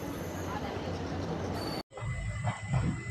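A passenger train departs Dharmapuri with a steady, dense rumble and hiss of rolling stock, broken by a brief drop-out before a lower, rougher rolling roar with faint tones resumes.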